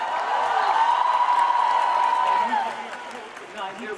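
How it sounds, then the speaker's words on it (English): Crowd at a large celebration event applauds with sustained cheering and whoops riding on top, loud at first and then tapering to a lower level near the end. "Give yourselves a big round of applause."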